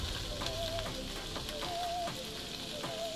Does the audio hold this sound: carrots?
yes